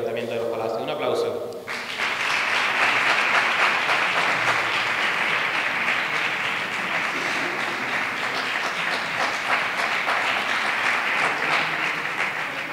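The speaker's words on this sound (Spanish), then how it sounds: "Un aplauso." Following a few spoken words, an audience at a Spanish town's Three Kings coronation ceremony erupts into long, steady applause, many hands clapping together at a fairly even level that tapers slightly near the end.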